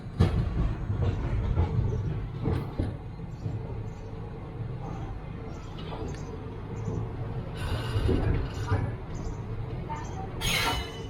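Train standing at Pamban station in Rameswaram, bound for Secunderabad: a steady low rumble of idling rail cars with occasional metallic clinks and hisses, while someone talks over it throughout.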